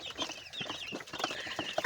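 Young black koyla chickens, about two months old, cluck and chirp together on a village farm, a busy overlapping chorus at moderate distance with no voices.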